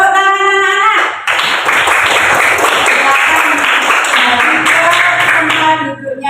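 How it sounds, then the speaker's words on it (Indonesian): A classroom of children bursts into steady, dense clapping that runs for about five seconds right after a teacher's voice, then fades as the talking resumes. "Tepuk tangan anak-anak."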